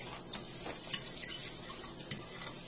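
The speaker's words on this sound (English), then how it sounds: "Then mix it lightly with a fork" A fork lightly stirring chia seeds in a small bowl for chocolate banana chia pudding, soft quiet scraping with a few brief clicks against the dish.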